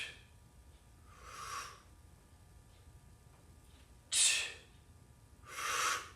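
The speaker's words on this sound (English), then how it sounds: "So you can hear my breathing, right?" Heavy exertion breaths from a person doing Z presses, three loud bursts of exhaling air standing out over a quiet, low background hum, spaced irregularly a second or two apart.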